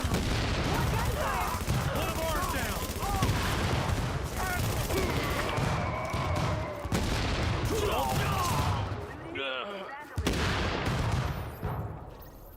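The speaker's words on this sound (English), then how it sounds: "The explosion sound is getting old now." Video game combat with repeated explosions and bursts of gunfire, dense and loud, while people talk over the action.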